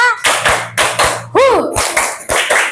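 A classroom of students claps together in a rhythmic counting game, sharp close group claps landing in quick patterned bursts, with voices calling out between them.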